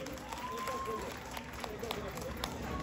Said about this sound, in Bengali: জোরে একটা হাততালি হয়ে যাক কিশোর দাসের